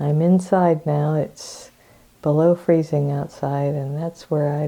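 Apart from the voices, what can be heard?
No everyday noise stands out behind the speech.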